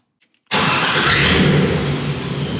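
An LS V8 engine, freshly tuned with ignition and exhaust upgrades, starts after a brief silence and runs loud and steady, a dense continuous roar with rumbling low tones for the rest of the clip, no talking.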